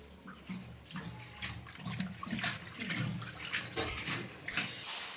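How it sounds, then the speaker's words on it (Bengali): Malabar spinach (pui shak) being washed under running water, a steady splashing and rinsing that continues throughout at close range with fluctuating intensity. "এবার পুঁই শাকটা ধোবো"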